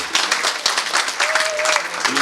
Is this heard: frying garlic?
no